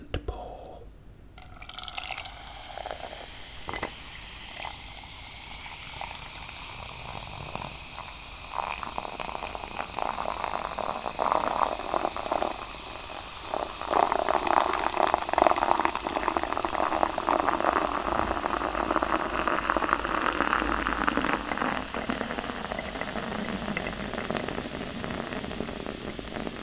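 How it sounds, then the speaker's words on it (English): Liquid poured in a steady, fizzing stream that lasts the whole stretch, with bubbling and crackling that grows gradually louder and stays close. "It was a good pour."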